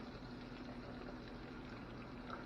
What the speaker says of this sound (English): put them in that hot oil